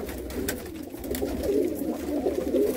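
Breeder pigeons kept for sale in Jammu coo softly and repeatedly close by, a low rolling burble running continuously with no talk over it.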